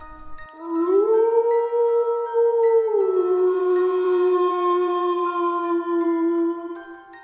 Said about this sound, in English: came a long, haunting howl.